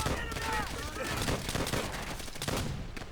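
Rifle gunfire in the World War II shooter game Call of Duty: World at War, dense overlapping shots crackling together in a loud, continuous burst, with voices mixed in.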